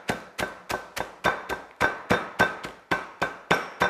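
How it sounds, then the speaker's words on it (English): A meat mallet pounds food sealed inside a bag on a counter for keto chicken, about a dozen sharp, evenly spaced thuds that ring out close and loud with no talking. "I've got my meat mallet here that I'm going to just crush these up"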